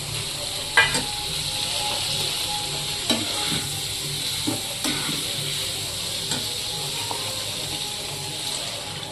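Paneer cubes stirred through a spiced masala of chilli powder, coriander powder, turmeric, salt and paneer masala, frying in a pan with a steady close sizzle and occasional scraping stirs of a spoon.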